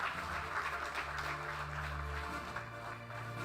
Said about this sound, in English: A loud applause, ladies and gentlemen.